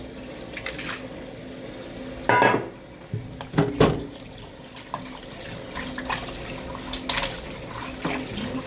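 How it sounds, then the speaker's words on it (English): Tap water runs into a bowl while goat meat is washed in a sink, a steady splashing stream broken by louder sloshes and clinks of the bowl, close by, with no speech. "I'll wash it until the water comes out clear"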